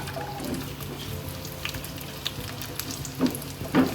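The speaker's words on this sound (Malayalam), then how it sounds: "ഈ ചൂടായ എണ്ണയിലോട്ട് ഈ സവാള ഇട്ടൊന്ന് വഴറ്റിയെടുക്കാം." Onions drop into about one to two tablespoons of hot oil for a Kerala-style onion curry served with chapati, giving a soft, steady sizzle with a few louder crackles and stirring bursts near the end, close and with no talk.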